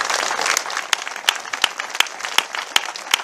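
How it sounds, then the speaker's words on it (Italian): Applause at the Festa Nazionale de La Croce in Italy in memory of Cardinal Caffarra, a rapid wash of claps with sharper individual claps standing out in a regular rhythm. "farei un applauso per ricordarlo"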